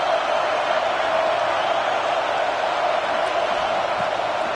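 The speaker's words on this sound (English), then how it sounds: "Listen to this crowd just shaking the girders of this place" A large college football stadium crowd keeps up a sustained, dense roar while the defense pressures the quarterback, loud and even from start to finish.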